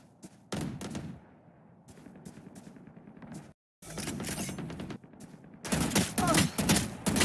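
Rapid gunfire bursts ring out in a shooter video game deathmatch on the Haven map, loud and close, coming in several clusters separated by brief gaps.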